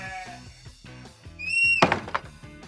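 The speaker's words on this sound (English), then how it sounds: "Did you hear a baaing noise?" A sheep bleats once, a wavering nasal baa that rises loud over a bouncy children's music track with rhythmic plucked notes and bell tones.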